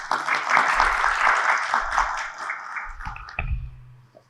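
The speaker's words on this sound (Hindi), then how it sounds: "तो चलिए जोरदार तालियों के साथ स्वागत करते हैं विकसित यूपी बैठक की" Audience applause at the Viksit UP Baithak in Jhansi, a burst of clapping that holds steady, then thins out and trails off toward silence near the end.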